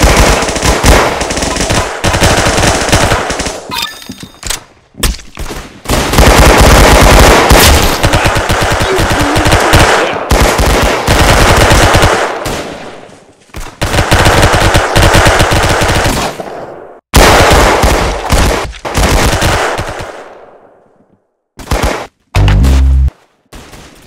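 Rapid automatic gunfire from the Roblox shooter game Arsenal, played on mobile, rattles out in loud, dense bursts separated by brief pauses, with a few single shots near the end.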